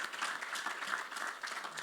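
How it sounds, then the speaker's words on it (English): Audience applause at a Web3 regulation panel discussion, a soft, steady patter of many hands clapping, fairly distant and faint, throughout the short moment. "Please clap, clap, clap,"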